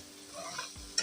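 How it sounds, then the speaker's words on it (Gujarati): A spoon stirs steamed bottle gourd (dudhi) in a pot once, giving a brief soft scrape and a light clink at the end, close but quiet. "તો આપણે ચમચાથી એકવાર હલાવી લઈશું।"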